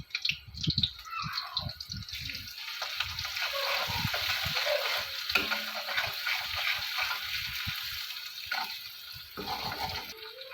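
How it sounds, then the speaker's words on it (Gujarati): Spices and ground chilli roast in a pan for an okra curry, giving a faint, continuous hiss mixed with watery bubbling and a run of low knocks and scrapes, especially near the start. "એને થોડી વાર માટે શેકાવા દઈશું"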